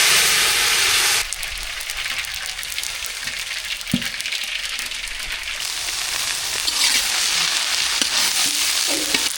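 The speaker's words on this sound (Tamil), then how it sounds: "சூடாயிட்டு கடுகு சேர்த்துக்கலாம் மூணு தாளிப்பு நடக்குது" Loud, steady sizzle of mustard seeds frying in hot oil, with sharp pops and crackles scattered throughout; no voices.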